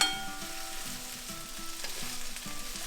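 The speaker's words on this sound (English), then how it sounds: "I'm going to add the onions and potatoes and just give that a quick stir" Okra, onions and potatoes fry in a pan with a steady, close sizzle, while a spoon scrapes and stirs through them in short, repeated strokes.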